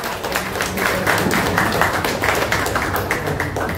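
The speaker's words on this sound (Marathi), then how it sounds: "जोरदार टाळ्या झाल्या पाहिजे." Audience clapping steadily at a book launch ceremony in Dombivli, a dense, sustained round of applause from a crowd, loud and close, with no talk over it.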